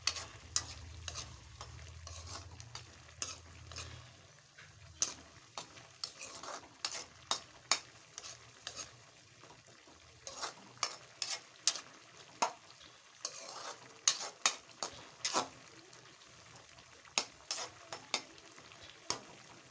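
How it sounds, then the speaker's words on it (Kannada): Bottle gourd pieces boil in a syrup of half a cup of sugar and half a cup of water for homemade tutti frutti, giving irregular soft pops and clicks over a quiet simmering hiss. "ಅರ್ಧ ಕಪ್ ನೀರಿನಾಗ ಸಕ್ಕರೆ ಕುದಿಯೋಣ ಈ ಸ್ವಾರಿಕಾಯಾಗ ಕುದಿಸ್ಕೊಬೇಕು."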